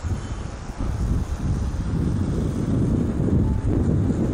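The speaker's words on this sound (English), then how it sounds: "it's quite windy, as you can see in the trees there" Strong gusty wind roars and buffets the microphone outdoors among trees, a loud low rumble that stays steady for a few seconds with no voices.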